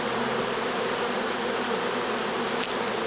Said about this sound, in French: il y a encore des abeilles de partout